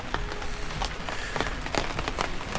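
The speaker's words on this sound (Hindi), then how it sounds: "मौसम बदल गया है, बारिश होने लगी है" Steady rain falls in the mountains near Kheerganga on a trek, a dense hiss with scattered drops pattering on nearby surfaces and no talk.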